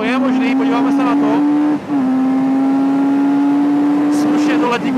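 Kawasaki Z900RS motorcycle accelerating at full power, a loud, steady high engine drone with one brief dip as it shifts gear, then pulling on close and continuous.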